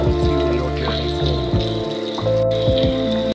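Steady rain falls and patters across a surface, mixed with soft, cool sleep music whose sustained tones run throughout at an even level until the sound cuts off abruptly.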